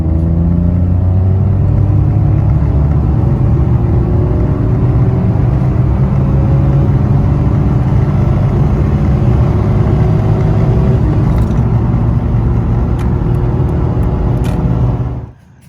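A Citroen C1 running at 70 mph on 15-inch alloy wheels gives a loud, steady drone of engine, road and tyre rumble that holds level the whole way, with no talking, before cutting off abruptly at the end.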